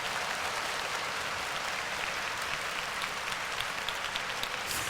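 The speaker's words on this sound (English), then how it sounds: "Applause for a second." Applause during a podcast episode: a steady patter of clapping holds for about five seconds at a fairly low level, with no voices over it.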